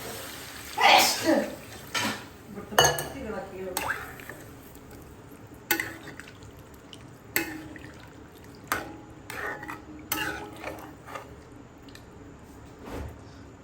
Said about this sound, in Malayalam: ഇത് വെള്ളമൊഴിക്കാം ആവശ്യത്തിന്